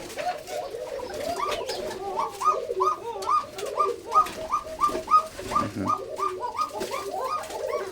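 Pigeons at a Bengali pigeon farm coo steadily in overlapping, rhythmic bursts, several birds calling close by throughout, with a little background rustle.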